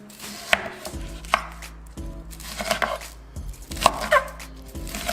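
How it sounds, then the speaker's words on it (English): A knife chops a small-to-medium sweet onion on a cutting board for salsa, sounding as a series of crisp close knocks in uneven bursts with short pauses between, with no talking. "you got your small to medium sweet onion. What I'm gonna do is I'm gonna cut this"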